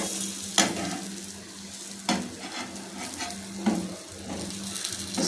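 Sweet potato tikkis frying in oil in a pan, a close, continuous sizzle punctuated by four sharp metallic scrapes and taps as each patty is gently flipped.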